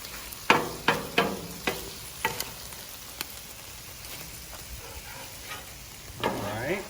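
Broccoli, onions and peas fry in a pan for chicken and pork fried rice, a low sizzle broken by several sharp clanks and scrapes of a utensil, close by and with no talking.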